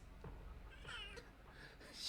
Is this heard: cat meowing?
yes